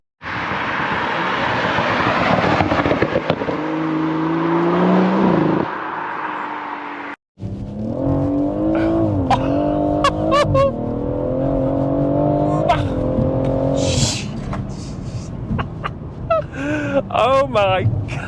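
Tuned Stage 1 BMW M140i hatchback at over 400 bhp accelerating hard, with rising engine revs and rapid gear changes, loud and close from inside the car, broken by a brief cut, with voices talking over it.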